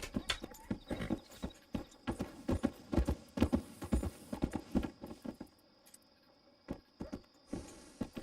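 Horse hooves clip-clop at a relaxed walking pace in Red Dead Redemption 2, close and distinct rhythmic thuds, with a short pause before a few final steps.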